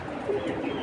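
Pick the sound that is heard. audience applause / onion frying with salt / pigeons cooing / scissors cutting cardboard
pigeons cooing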